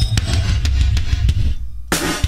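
Punchy drum hits ring out with a boxy, bass-heavy reverb from a NonLin2 effect on a PowerCore 6000, the thick low-end thump smearing each beat into a muffled room sound.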